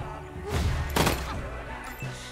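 Gunfire from a headshot attack in the Wasteland 3 video game, a couple of loud broadband bursts in close succession over low game background hum.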